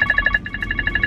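A mobile phone rings with an incoming call, a quick repeating electronic ringtone of short pulsing beeps, fairly close and steady.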